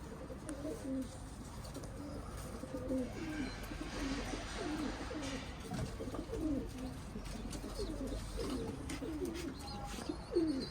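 Pigeons coo in a repeated, rhythmic run of soft low calls, close by and fairly quiet over a faint steady background, with no talking.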